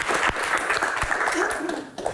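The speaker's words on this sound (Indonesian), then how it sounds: "Tepuk tangan, silakan duduk Pak." Applause from an audience at a question-and-answer session, a steady wash of clapping with some speech mixed in, lasting about two seconds.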